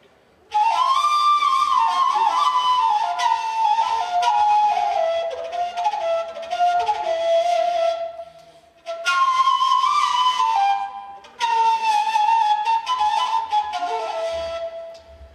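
A Bulgarian kaval wooden flute plays a breathy, flowing melody in three long phrases with short pauses between them, close and fairly loud.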